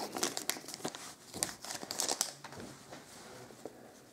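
Crinkly foil wrapper of a Panini Mosaic UEFA Euro trading card pack being torn and crumpled close up, in sharp irregular bursts of rustling that fade into quieter handling.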